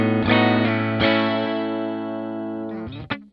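A 2022 Epiphone Jerry Cantrell Les Paul Prophecy electric guitar with its coil split engaged rings out a bright, sustained chord, restruck twice early on, then a quick flurry of picked notes near the end, heard alone.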